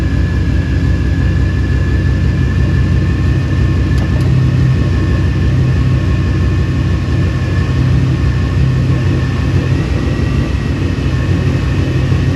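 Steady, loud low rumble from the idling engine of a Procharged Ford Mustang GT, constant and unbroken with a faint high whine above it.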